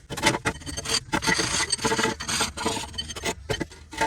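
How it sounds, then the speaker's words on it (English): Hand file rasping over Honda Pilot brake parts to clean them, a series of close, scratchy back-and-forth strokes with brief pauses between, no talking. "So I'm just going to run a file on here until they're nice and clean."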